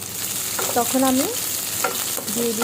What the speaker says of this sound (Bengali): পেঁয়াজ কুচিগুলোকে ভালো মতো একবারে ব্রাউন কালার করে ভেজে নেব।